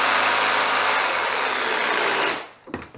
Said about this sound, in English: I set up my redneck bandsaw here, and it's just my jigsaw and a vise, and I've got a clamp on the trigger